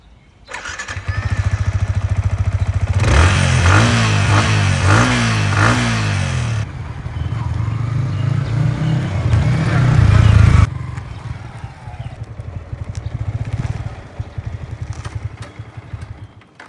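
A motorcycle with front and rear ABS and an 11-liter fuel tank runs loudly and continuously, its engine idling and then revving in repeated rising bursts before settling back to a steady idle.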